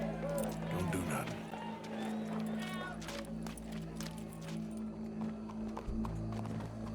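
Horse hooves clip-clop steadily through the Red Dead Redemption 2 video game world, close and continuous, mixed with game ambience and a background bed of voices.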